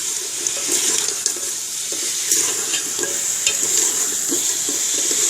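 Meat seasoned with black pepper and salt is stirred in a karahi for a black pepper karahi, a constant close sizzle with irregular scraping and clinks from the spoon against the pan.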